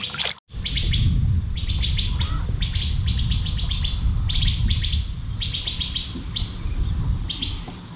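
Loud, repeated chirping bird calls in quick bursts over a steady outdoor insect and background hum, with no talking.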